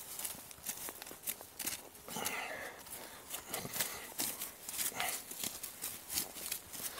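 Quiet, uneven hoof clops as a donkey walks along behind a cow outdoors in the cold. The steps are soft and fairly distant, with faint rustling between them.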